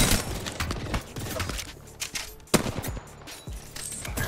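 Enemy gunfire in a video game, rapid overlapping shots and bursts hitting close by, loud and continuous with sharp cracks, no talk.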